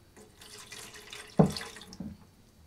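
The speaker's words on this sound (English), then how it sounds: "we're going to go ahead and add half a cup of water" Half a cup of water poured into sourdough starter in a container: a short, quiet splash and trickle that peaks once sharply, then tapers into a few faint drips.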